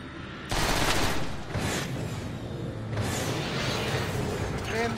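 Shotgun fire in the video game Transformers: War for Cybertron: a few loud, broadband blasts, each trailing into a short rumbling decay, spaced over several seconds against steady game background noise.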